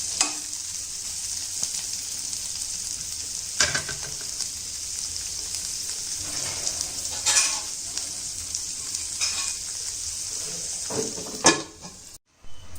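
Boti meat curry fries in a pan with a steady, close hiss of sizzling oil. Occasional stirring scrapes and clinks cut through the hiss before it drops out abruptly near the end.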